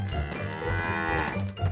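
A cow in an animated Vietnamese folk-tale film lets out a single long, loud, drawn-out moo, close and alone without talk.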